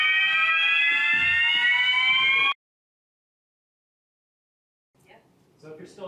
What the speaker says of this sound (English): Online, we have a fire alarm.